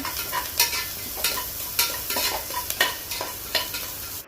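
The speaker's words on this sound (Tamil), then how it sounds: "கட் பண்ணி வச்சுருக்கிற பச்சை மிளகாய், கருவேப்பிலை ஆட் பண்ணிக்கோங்க. நல்லா வதக்கிக்கோங்க." Green chillies, curry leaves and salt sautéing in oil in a pan, a continuous close sizzle with rhythmic stirring scrapes recurring about every half second.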